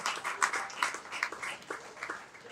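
Audience at a yoga event applauding, a dense, steady patter of many hands clapping at moderate distance, continuing evenly through the whole stretch without pause.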